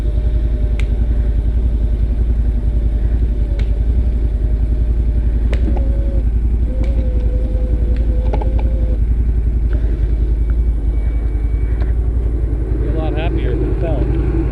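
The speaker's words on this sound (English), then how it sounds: "We're just going to winch the butt end of it back until it breaks against another tree it was resting against." A steady, close mechanical drone runs throughout from a winch pulling back the butt end of a fallen tree, mixed with occasional clatter and tonal whines, and people talk over it.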